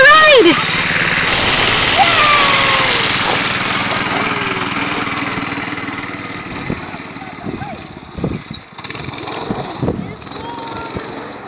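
Go kart engine running loud and close throughout a ride, a steady high buzzing drone that fades slightly toward the end, with people shouting and talking over it.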